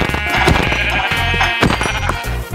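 Several Minecraft sheep bleat over a steady game soundtrack, the calls loud and close, overlapping at irregular intervals with no talking.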